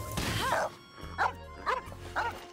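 A dog in the Genshin Impact video game gives several short bow-wow barks, four spaced yelps in a row at moderate loudness, over faint game background sound.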